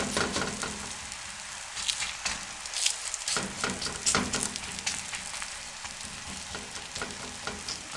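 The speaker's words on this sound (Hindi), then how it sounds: "तवे पे 1 टेबलस्पून घी लगा दिया है। अब इसके ऊपर हम डाल देंगे।" A radish-stuffed paratha fries in ghee on a hot tawa over a medium flame, a steady crackling sizzle with scattered pops and spits, close and moderately loud with no voices.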